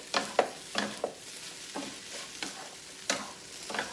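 Potatoes frying in a pan are stirred, with several distinct scraping strokes spaced about half a second apart over a soft, quiet sizzle.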